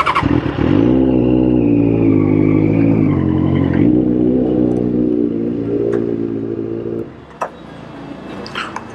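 A loud Benelli 600i motorcycle revs hard up close, its engine holding a strong, rough drone for several seconds before the throttle drops and it settles to a lower idle.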